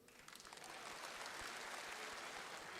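A crowd at a public religious speech breaks into applause, faint and distant, building quickly into a dense, steady patter of many hands that lasts a few seconds.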